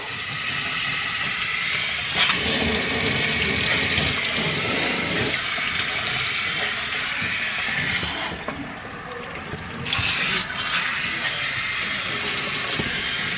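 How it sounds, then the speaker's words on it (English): Steady rush of running water rinsing down a Goldendoodle puppy's muzzle during a bath, continuous and close with no break. "I'm letting that water just hit down the muzzle."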